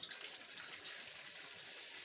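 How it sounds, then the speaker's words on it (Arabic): About two cups of water pour into a kneading bowl while feteer meshaltet dough is being made, giving a steady, close hiss that runs evenly for two seconds with no talking. "وننزل بكمية من المية بتاع حوالي كوبايتين مية،"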